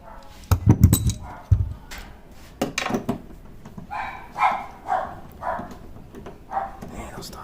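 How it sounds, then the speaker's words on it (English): Dogs bark in the background of a garage where a Camaro SS wickerbill is being installed, with a few loud close thumps early on, then a run of separate mid-distance barks under intermittent talk. "those dogs are annoying"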